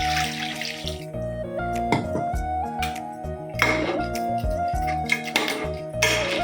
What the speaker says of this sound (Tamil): நண்டு வேகிற அளவுக்கு தண்ணி ஊற்றிக்கலாம்.